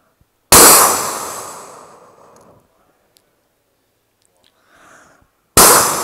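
A voice imitates a grenade explosion: one loud, close burst that decays over about two seconds, then quiet, and a second sharp burst begins at the very end.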